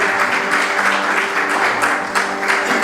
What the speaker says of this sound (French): Est-ce qu'on peut encore applaudir plus fort?